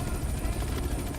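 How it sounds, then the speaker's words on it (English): A helicopter in the video game Manhunt 2 fires down from above, and its loud, steady rotor drone fills the whole short moment with no voices. "The helicopter appears to have been raining bullets down upon me."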